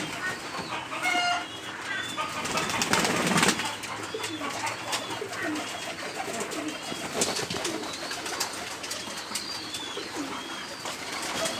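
Pigeons coo repeatedly close by while feeding from a bowl, with soft pecking and a short burst of wing flapping early on, all over a busy background of other birds.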